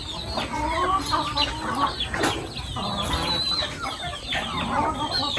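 Chickens cluck and squawk repeatedly at close range, a busy run of overlapping fowl calls with one crow-like cry, and no talking.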